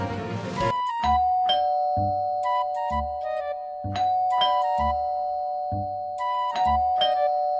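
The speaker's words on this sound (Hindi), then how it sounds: "कौन है घंटी पे हाथ रख के भूल जाते हैं?" A two-tone electronic doorbell chimes over and over in quick succession, loud and insistent, with no voices.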